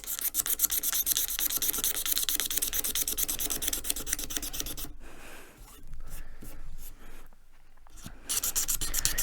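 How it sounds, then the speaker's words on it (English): A brand new, sharp razor blade scrapes grime and sanding dullness off a guitar fretboard during a setup, giving steady close rasping strokes that pause briefly midway before resuming. "we'll take a brand new razor blade now. Nice and sharp. And we will just scrape this board clean."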